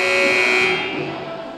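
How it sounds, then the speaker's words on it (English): A loud electronic buzzer blares steadily at a high-school boys basketball game as the half ends, holding for most of a second before fading into gym ambience and crowd noise. "Allie Barry hit that bank three at the buzzer to push the lead back to eight"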